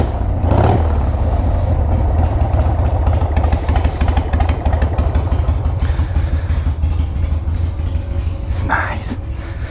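A carbureted Harley-Davidson 883 Hugger idles low and steady nearby, its loping rumble continuous throughout with a few brief clanks and knocks on top.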